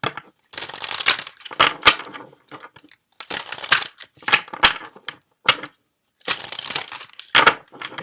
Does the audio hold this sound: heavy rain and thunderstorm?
no